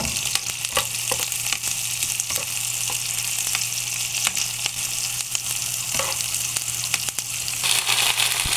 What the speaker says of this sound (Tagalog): Igisa.